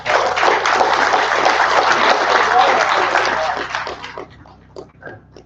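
An audience at the 2023 Fort Pitt Treaty Gathering breaks into dense, sustained applause that stays loud and steady for several seconds, then thins out and tapers into scattered claps near the end.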